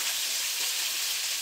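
Cabbage fries in a hot pan with a dense, continuous hissing sizzle, close and steady over a brief moment, with no voices.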